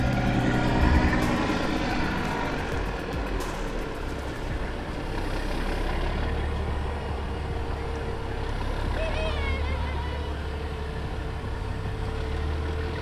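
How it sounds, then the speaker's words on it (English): A truck engine rumbles steadily nearby while hauling John Deere 748L skidders, a low continuous drone with faint higher whines and beeps in the background. "Maybe y'all can hear that truck."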